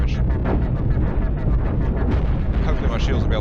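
Heavy cannon fire pounding a spaceship in the game Cosmoteer, a loud, continuous barrage of rumbling booms and bursts with no pause.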